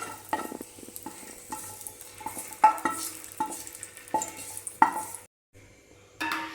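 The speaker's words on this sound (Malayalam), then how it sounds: "ഒന്ന് റോസ്റ്റ് ചെയ്തെടുക്കാം മുന്തിരി പായസത്തിലേക്ക് ചേർത്ത് കൊടുക്കാം" Raisins roast in ghee in a pan for adaprathaman payasam, a light sizzle under frequent rhythmic scrapes and metallic clinks of a spoon against the pan, briefly pausing before stirring resumes.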